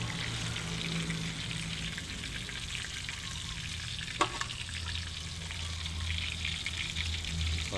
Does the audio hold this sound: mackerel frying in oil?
yes